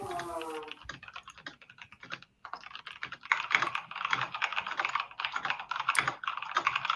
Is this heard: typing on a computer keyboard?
yes